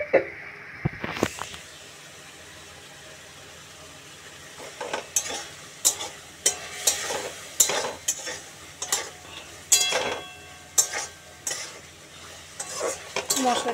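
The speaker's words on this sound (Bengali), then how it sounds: "মশলাটা বেশ কষানো হয়ে গেছে," Spices frying in oil for a ridge gourd curry, a close, sustained sizzle broken by repeated scraping and clinking strokes of a spoon stirring the pan, with no talk.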